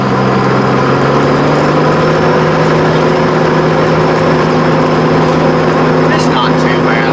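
An old work van's engine drones steadily at highway speed on a long country drive, a constant low hum with road noise running throughout.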